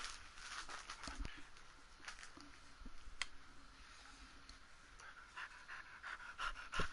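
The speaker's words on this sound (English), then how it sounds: "If you hear the heavy breathing, that would be my dog." A dog panting steadily in the room, with rapid breathy rhythm and faint clicks and footsteps nearby, no talk over it.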